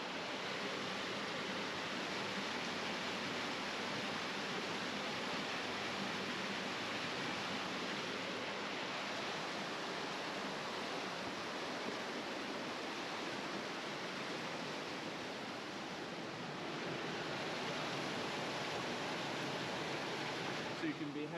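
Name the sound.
river water running beneath a restaurant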